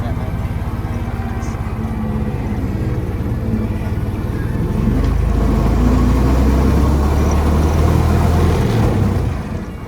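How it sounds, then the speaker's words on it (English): A Ford Model T's inline four-cylinder, 178 cubic inch engine runs steadily at Greenfield Village in Dearborn, Michigan, a continuous low rumble that grows louder about halfway through and holds to the end. "All Model Ts are powered by an inline 4-cylinder engine on a 178 cubic inch displacement motor."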